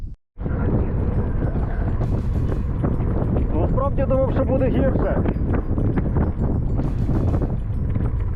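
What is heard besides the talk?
strong headwind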